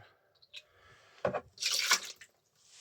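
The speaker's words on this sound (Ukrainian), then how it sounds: "Отже, наливаємо 100 мл" Hot water is poured into a container as part of a cleaning mix for rabbit enclosures, coming as a couple of short splashy bursts and then a longer steady pour, close and fairly loud, with quiet gaps between.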